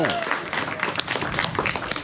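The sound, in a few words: audience clapping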